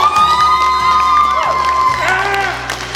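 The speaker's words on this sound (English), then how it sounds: "Let's all give a round of applause for a beautiful bride." Wedding guests cheer, whoop and clap for the bride in a lively crowd burst, with high excited voices over a sustained musical background, loud and close throughout.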